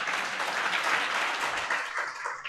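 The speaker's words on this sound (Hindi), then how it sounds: "तालियां बजाओ इनके लिए आप" Audience applause fills a large seminar hall at a Hindi-language exam strategy seminar, a dense, steady wash of clapping that stays loud for its whole length with no clear speech.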